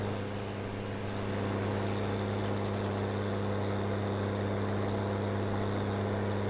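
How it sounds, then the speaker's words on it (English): A small tractor in Farming Simulator 19 strains while pushing three trees, its engine droning in a steady, loud, low hum with a constant rumble and no pauses. "This little baby tractor is like really struggling"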